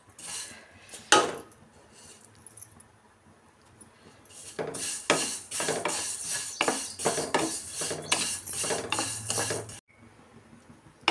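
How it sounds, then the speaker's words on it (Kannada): Dry vermicelli being roasted and stirred in a metal pan for shavige bath, with repeated scraping and clinking of a spoon against the pan, loud and close, alone without talk. "ಶಾವಿಗೆಯನ್ನು ಚೆನ್ನಾಗಿ ಹುರ್ಕೊಳ್ಳೋಣ."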